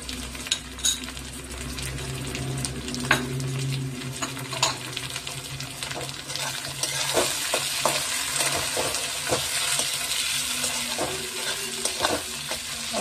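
Tomato pieces fry in hot oil in a pan for an aloo dum, giving a steady, close sizzle broken by repeated scraping and stirring clatter of a spoon against the pan.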